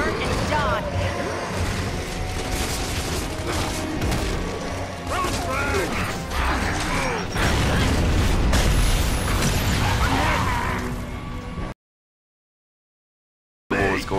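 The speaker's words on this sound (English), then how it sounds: "There was like three explosions going on." Booming explosions in the video game Gears of War 3 go off amid chaotic clatter and voices, building to a heavy roar before a sudden cut to silence.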